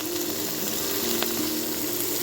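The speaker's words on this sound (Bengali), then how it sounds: "একটু কালো জিরা ফোড়নে দিয়ে দিচ্ছি।" Nigella seeds tempering in hot oil with spring onion for masoor dal give a steady, even sizzle and hiss that runs throughout, moderately loud and close, with no talking.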